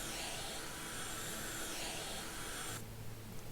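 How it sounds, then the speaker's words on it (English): A steady broadband whooshing hum from a vacuum window cleaner in House Flipper, a video game, runs continuously, then drops in pitch and thins out near the end. "It's like a vacuum cleaner on the window cleaning."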